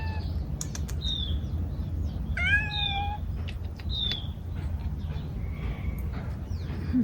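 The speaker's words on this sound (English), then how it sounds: "There are so many cats in this area." Several outdoor cats meow in short, scattered calls over a steady low rumble of ambient noise, with a few faint bird chirps mixed in and no talking.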